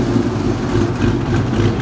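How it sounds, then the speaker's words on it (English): A wide body Dodge Charger rolling into a Houston car meet, its engine a loud, steady, deep rumble close by. "got the wide body Charger rolling in"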